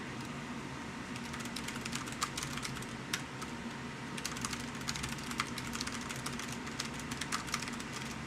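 Steady, continuous typing on a $220 computer keyboard in a gaming setup, dense rapid key clicks running throughout at close range with no talking.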